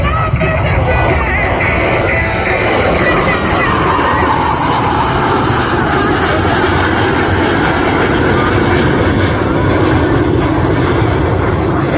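Blue Angels jets in diamond formation pass at an air show at Spirit of St. Louis Airport, a loud continuous broadband engine roar that swells and sweeps overhead for the whole stretch, with faint crowd or announcer voices beneath.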